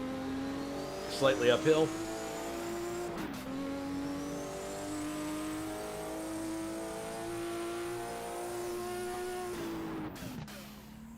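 Race car from the 1978 German racing championship (DRM) ADAC Bilstein Super Sprint pulls hard out of a long right-hand corner, its engine note climbing steadily for a sustained stretch, with someone commentating over it.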